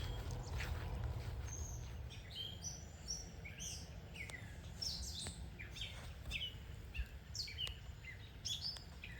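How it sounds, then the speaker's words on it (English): A small bird sings repeatedly in a state park along Lake Erie, bright chirps and trills coming in quick bursts at moderate distance over a quiet outdoor background. "Boy, this bird is just singing up a storm over here."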